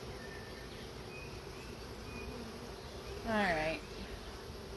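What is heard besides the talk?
honey bees buzzing at a hive ready to swarm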